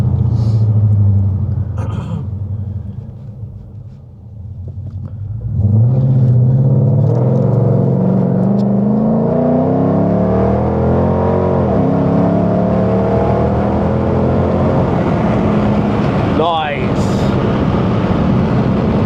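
A Dodge Charger R/T engine revs while driving, rumbling low, dipping, then climbing in a long rising pull heard from inside the car, with people talking over it.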